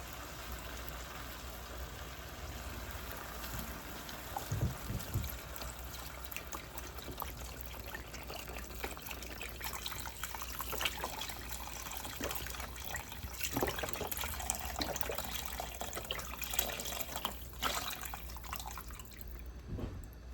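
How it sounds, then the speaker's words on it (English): Water trickles into a cooking pot of broth-based juice for roast beef, a faint steady pouring and dripping that runs unbroken for about twenty seconds with no voices. "We'll add a little water."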